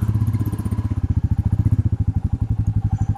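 A 2022 Royal Enfield Meteor 350 motorcycle pulls away in first gear, its single-cylinder engine thumping in a steady, close, rhythmic pulse that quickens slightly as it rides off.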